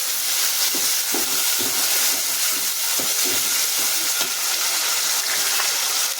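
Tomatoes and a ground ginger-garlic-onion paste frying in a pan for home-style chicken curry give a loud, continuous close sizzle, with soft scraping stir strokes scattered through it and no voices.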